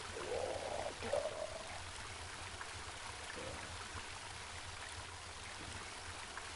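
Running water in the video game Home, a low, steady stream-like trickle that stays faint and continuous throughout.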